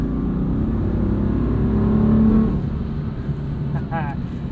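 A 530 hp 2015 BMW M4 with DCT gearbox revs and pulls strongly, its pitch climbing and then easing off, with speech partly over it.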